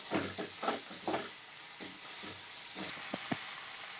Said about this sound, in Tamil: தக்காளி போட்டுக்கலாம், இதை நல்லா வதக்கினே இருங்க